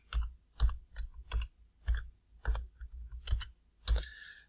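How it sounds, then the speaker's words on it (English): Someone types on a computer keyboard, making about a dozen close, crisp key clicks in short uneven bursts with small pauses, and no talking. "let's just type it in."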